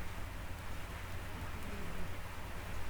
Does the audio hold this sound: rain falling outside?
yes